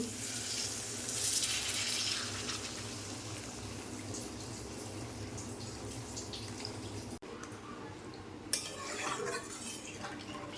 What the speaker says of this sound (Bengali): এবার আমি এর মধ্যে দিয়ে দেবো জল। দিয়ে দিচ্ছি জল।